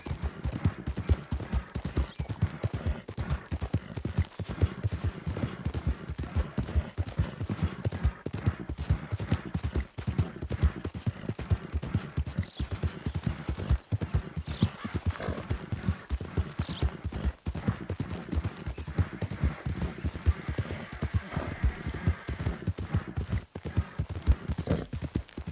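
A horse gallops in a western video game, its hooves clip-clopping in a fast, steady rhythm the whole way through. Faint game sounds sit in the background and there is no speech.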